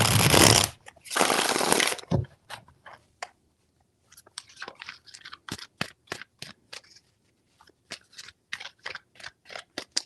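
Tarot cards riffled and shuffled: two loud, dense bursts of card flutter, then a run of quieter, sharp clicks and snaps as the deck is tapped and squared, close up with no talking.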